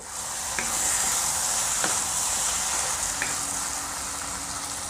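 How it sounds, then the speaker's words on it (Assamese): Onions and tomatoes soften in a frying pan with a constant, fairly loud sizzle, punctuated by a few faint stirring taps. "এই পিঁয়াজ আৰু বিলাহীখিনি কোমল হোৱালৈকে আমি ভাজি ল'ম"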